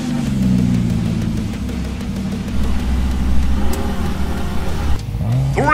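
Cartoon racing cars rev their engines at the start of an auto race, a loud buzzing engine drone with pitch wobbling and climbing into a final rev, no talk over it.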